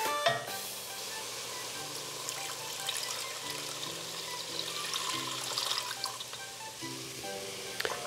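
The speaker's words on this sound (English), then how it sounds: "Now in goes the veggie broth." Vegetable broth pours into a soup pot of cooked vegetables, a soft, close liquid rush and trickle lasting several seconds, with a faint steady hum beneath.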